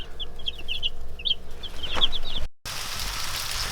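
Young hens cluck and cheep in quick, high, repeated calls close by, a busy flock chatter lasting a few seconds, then cutting briefly before faint background noise resumes.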